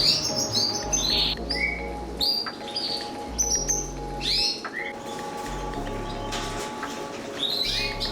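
Canaries at a canary breeding farm chirp and trill in quick, overlapping bursts, with many birds singing close by above a low, steady hum from the room.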